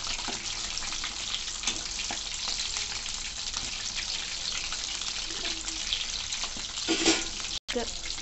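Chicken pakoda pieces fry in hot oil with a steady close sizzle and bubbling, broken by occasional stirring scrapes and one brief dropout near the end.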